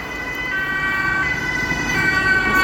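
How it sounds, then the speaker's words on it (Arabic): An ambulance siren wails steadily and loudly nearby on a road, its tones running continuously over passing traffic noise. "السيارات مال اسعاف"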